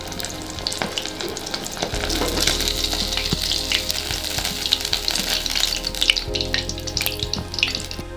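Sea bass (koduva) fish fry, masala-coated, sizzling steadily in a hot pan with continuous crackling and spitting, close and loud throughout.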